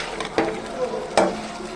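Vegetables get mixed and fried in a pan over a soft, steady sizzle, broken by two sharp scraping stirs from a utensil, with no voice.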